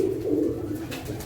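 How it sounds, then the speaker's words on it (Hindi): Lakha pigeons coo in low, throaty pulses close by, a soft rolling call repeated over a quiet background. "लाखा नयाब कबूतर।"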